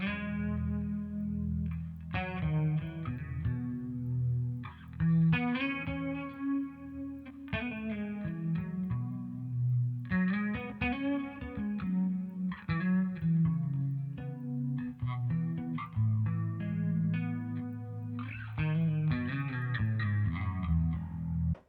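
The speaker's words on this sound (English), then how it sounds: "chorus and reverb in one switch." An electric guitar runs through an XSONIC XTONE set to chorus and reverb, playing a slow, ballad-style sequence of strummed chords and picked notes that ring out with a shimmering, washy tail.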